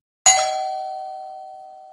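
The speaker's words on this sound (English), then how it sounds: "my intention was to get this thing to sound like a real old-school doorbell" A single bright metallic ding of an old-school doorbell sample, struck once and ringing out in a long, steady, slowly fading tone with nothing else around it.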